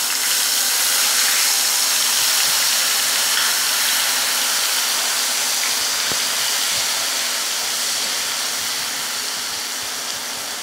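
Onion paste sizzles in hot oil with whole dry chillies, cardamom and cloves while cooking doi katla, a loud, steady, bright hiss running unbroken throughout, with no voices.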